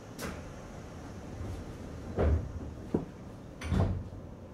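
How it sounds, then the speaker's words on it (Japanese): Doors of a Seibu 4000 series resistor-controlled train closing at a station, heard as several fairly quiet thuds and clunks spread over a few seconds against a low background rumble. "ドアが閉まります。 ご注意ください。"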